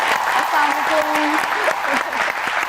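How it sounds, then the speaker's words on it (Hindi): Studio audience applause on a television talk show, a steady continuous patter of clapping with a few voices mixed in. "तालियां, फिर से तालियां।"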